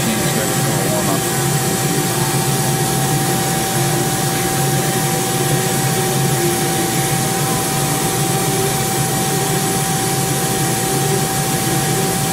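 A Mori Seiki 1500SZ CNC lathe runs its spindle at 2,000 RPM while the machine warms up. It produces a loud, continuous roar with a steady tone running through it and no break for the whole stretch.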